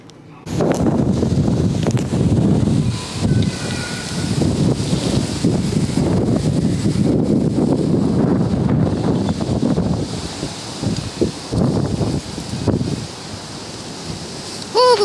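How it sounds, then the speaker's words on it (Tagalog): Steady roar of strong wind buffeting outdoors, broadband and continuous for the whole stretch, with gusts rising and falling. "Lakas pa talaga ng hangin dito."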